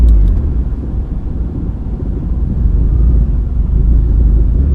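Supercharged Subaru Outback engine with forged internals, driven gently during break-in: a continuous loud low rumble and drone heard from inside the car, steady with slight surges.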